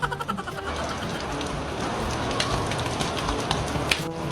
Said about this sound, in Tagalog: Hala, si Mateo naliligo ng ulan.